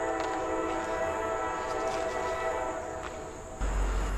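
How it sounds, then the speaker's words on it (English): A Norfolk Southern train sounds a long, sustained whistle in the distance near old iron furnace ruins. It is a moderately faint, steady chord that ends abruptly. "I've been hearing that train whistle"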